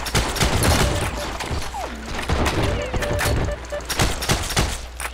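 Gunfire in the World War II shooter Heroes and Generals: rapid bursts of machine-gun and rifle shots crack close and in dense volleys throughout, with a player's voice calling out over them.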